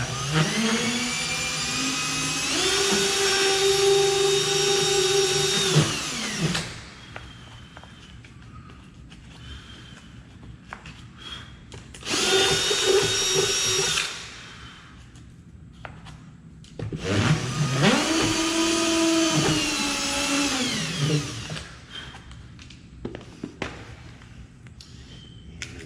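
A drill fitted with a wood-and-metal burr bit bores out the back of a newly installed door, running in three loud bursts separated by quiet handling pauses.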